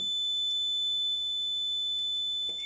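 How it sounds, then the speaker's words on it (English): A continuous high-pitched canal boat horn tone holds steadily throughout, loud and unbroken, with faint background noise beneath it. "horn working"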